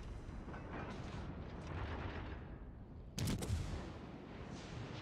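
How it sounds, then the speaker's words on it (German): Battleship Normandie firing its naval guns in World of Warships Legends, a single deep, booming salvo rising out of a faint rumbling sea-battle backdrop. "Oh, Normandie schießt hier auf uns."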